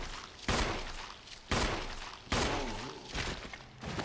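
Gunfire in Resident Evil arrives as three loud, sharp shots about a second apart, each trailing off in a short echo, with a faint fourth burst at the end.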